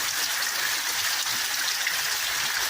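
Heavy rain pours down in Taquara, Rio Grande do Sul, as a steady, dense hiss of water that holds the same level throughout, with no voices over it.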